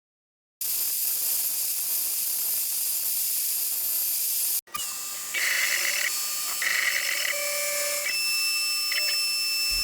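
A 1.5-inch surfacing bit on a CNC router mills down a sheet of PVC to thin it, giving a steady high-pitched hissing whine with a brief break, then a tonal cutting whir that shifts as passes change, close by with no talking.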